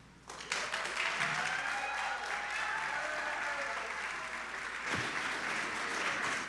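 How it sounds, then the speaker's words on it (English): Applause breaks out in a city council meeting chamber, a steady wash of many hands clapping that begins suddenly and holds at moderate loudness, with a faint voice underneath. "If you can please hold your applause."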